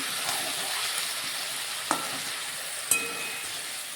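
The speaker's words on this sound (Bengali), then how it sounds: "তো আরও কিছুক্ষণ কষে নেব, আবার অল্প একটু জল দিয়ে কিছুক্ষণ কষে নেব" Chicken being sautéed (kosha) in oil in a pan, a steady close sizzle and hiss with two sharp clinks of a spatula against the pan.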